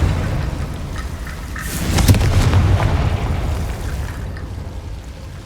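A Confringo blasting spell explodes in Hogwarts Legacy with a deep, rumbling boom that swells midway and slowly fades, standing alone with no talk.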